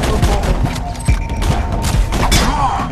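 Rapid bursts of gunfire from an inaccurate weapon in the video game Borderlands 2, with dense, loud repeated shots and thumps running continuously through the moment.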